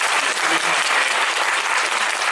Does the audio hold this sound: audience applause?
yes